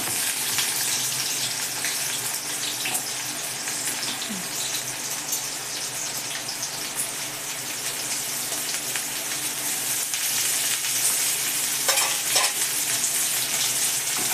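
Onion, capsicum and cabbage sautéing in hot oil in a pan, a loud, continuous hissing sizzle that fills the whole stretch, with faint stirring scrapes near the end.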